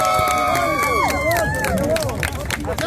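A crowd at a prize contest applauds a contestant, with brisk claps under a busy wash of cheering, whooping voices, near and loud before easing slightly at the end.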